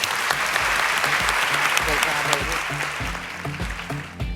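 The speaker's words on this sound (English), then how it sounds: "Another round of applause for all at the CBRE Women's Network for making this show possible." Audience applause at a CBRE Women's Network networking event, a dense, sustained clapping that stays loud throughout, with low tones that may be background music running underneath.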